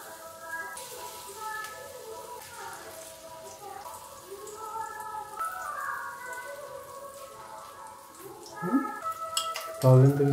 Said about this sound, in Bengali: এবার আমি ডাল আর এই থোড়ের মিশ্রণ থেকে ছোট ছোট করে একটু বড়া ভেজে নিচ্ছি।